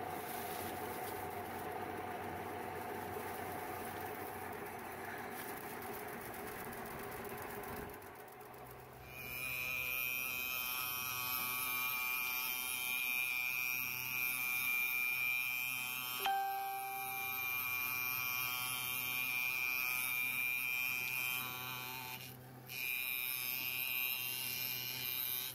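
Lathe turning the outside of a plastic pulley: steady motor hum with a high whining cut tone that starts about a third of the way in and continues, with a brief change near the end; close and continuous, no talking.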